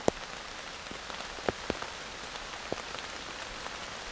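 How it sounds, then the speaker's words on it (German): Rain falls steadily on a forest bushcraft camp, a soft continuous hiss dotted with sharp, irregular drops tapping on nearby surfaces. No voices. "Eigentlich richtig schön, einfach mal nur so im Regen zu sitzen."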